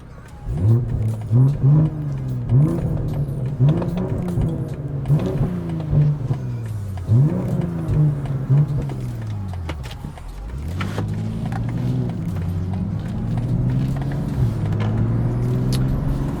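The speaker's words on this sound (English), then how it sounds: "A lot more turbo noises, the induction sound has been improved" A turbocharged BMW G42 M240i engine with an aftermarket downpipe and intake revs repeatedly, rising and falling in pitch, with turbo whoosh and induction noise throughout, close and loud.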